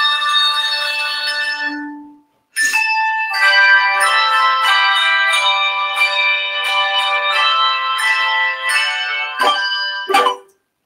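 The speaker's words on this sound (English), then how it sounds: "Yes, I found the bells." Bells ringing with a bright, jingling shimmer that starts after a short gap and continues steadily for several seconds in a Christmas-time setting, fairly loud and close, ending with a few last rings.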